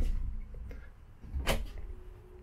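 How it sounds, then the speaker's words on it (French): A large mirrored wardrobe door inside a 2021 Jayco Melbourne 24L camper sliding or swinging shut, a soft thud with a brief sharp knock near the middle, quiet and close with no voices. "Puis on a un grand garde-robe avec porte-miroir."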